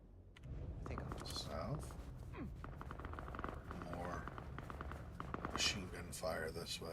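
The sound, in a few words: machine gun fire in a video game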